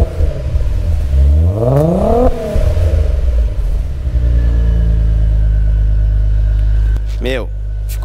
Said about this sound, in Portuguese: Se liga o barulho em marcha lenta.